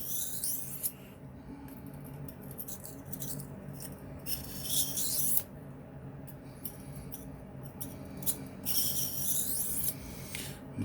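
A knife blade rasps in short strokes against a sharpening stone while the burr is worked down, a series of close, quiet scraping passes with brief gaps between them.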